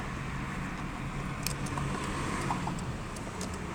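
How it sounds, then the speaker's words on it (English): Cars in traffic near a KFC drive-thru, a continuous broadband road rumble of engines and tyres passing nearby, steady and moderately loud with a few faint metallic clinks. "And a lot of cars right here."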